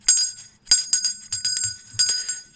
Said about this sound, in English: you hear in the distance a bell